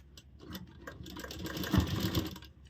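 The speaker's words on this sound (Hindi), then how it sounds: "अब यहाँ से हम सिलाई शुरू करेंगे।" A sewing machine stitches fabric while a zippered pocket and bag bottom are made. It gives a close, steady mechanical whirr that builds in loudness toward the end, with no voices.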